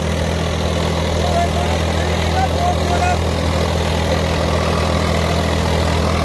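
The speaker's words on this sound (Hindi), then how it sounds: "भाई ट्रैक्टर बिल्कुल फ्री चल रहा" A tractor engine runs steadily with a constant low drone, close by, pulling a rotavator through a field while someone talks over it.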